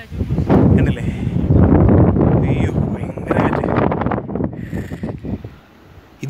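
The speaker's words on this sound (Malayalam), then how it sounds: "ഇവിടെ ഭയങ്കര കാറ്റാണ് കേട്ടോ. കാറ്റിൻ്റെ ശബ്ദം കൊണ്ട് നമുക്ക് വീഡിയോയില് നമ്മൾ പറയുന്നത് ഓഡിയോ ക്ലിയർ ആവുന്നില്ല" Strong wind buffets the microphone at a hilltop spot near the Yellapetty bungalow, a loud, constant rumbling roar with gusts that swell and ease, heavy enough to muddy the talking that runs over it.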